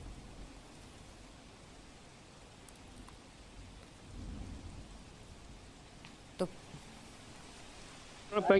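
Steady rain hiss throughout during an incessant downpour in Muliyasa village, Gujarat, with a low rumble swelling midway and a couple of sharp knocks near the end.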